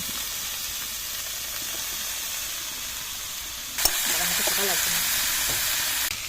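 Spice paste sizzles and fries in a pan as boiled banana stem and fried potatoes are added, a continuous loud hiss with a clatter as the ingredients go in, then stirring noises over the frying.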